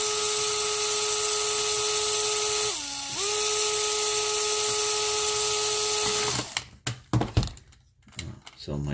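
A small DeWalt 9.5-volt keyed-chuck power drill whines steadily at a high pitch, briefly bogging down midway, then stops and is followed by clattering and handling noises.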